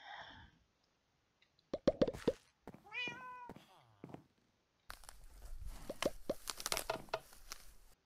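A cat meows inside the video game Minecraft, a few short clear calls in the middle of the stretch, alone at first and then followed by a louder mix of other game noises.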